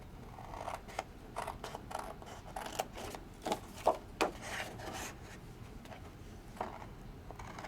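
Scissors snip through a Sizzix stencil in a series of close, quiet crisp cuts with papery rustling between them, irregularly spaced and heard without talk.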